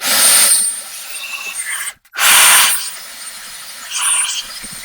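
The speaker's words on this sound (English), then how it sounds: "I'm just going to stick my leaf blower down here. I'm going to run it" A loud, breathy roar of a leaf blower running in bursts inside a dryer vent, cutting out abruptly for a moment before surging again, then a weaker whoosh.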